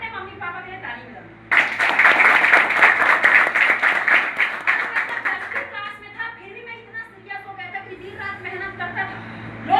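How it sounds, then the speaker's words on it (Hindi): A school audience of children bursts into loud, steady clapping after a brief spoken lead-in, the rapid applause holding strong for several seconds before thinning out as talk resumes over the last stretch. "अपने मम्मी पापा के लिए ताली बजाओ"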